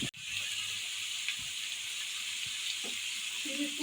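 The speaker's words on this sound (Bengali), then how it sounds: "কাঁঠালটাকে একটু ফ্রাই করে নিই, আলুটাকেও করবো। ভেজে নিলাম এখন।" Jackfruit pieces frying in hot oil, a steady close sizzle throughout with a few faint clinks and stirring sounds near the end.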